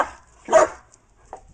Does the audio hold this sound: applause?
no